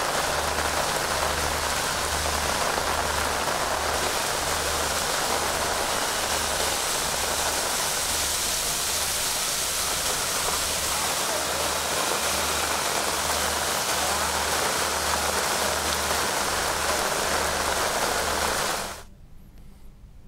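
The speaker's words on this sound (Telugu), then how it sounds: "హైదరాబాద్తో పాటు సంగారెడ్డిలో వర్షం కురుస్తోంది" Steady, heavy rain in Hyderabad hisses loudly and evenly, with a faint low throbbing pulse underneath, then cuts off abruptly near the end.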